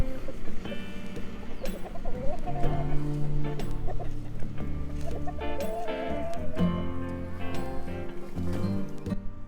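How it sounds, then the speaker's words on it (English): Chickens cluck and murmur continuously nearby, with occasional sharper squawks over a busy outdoor background. "Chickens love all the weeds that we have"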